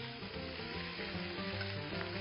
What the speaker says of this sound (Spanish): Lo ponemos a calentar en un sartén o una paellera chiquita. Ya con el aceite caliente.